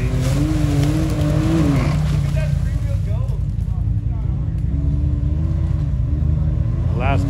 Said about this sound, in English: Look at that three-wheel go.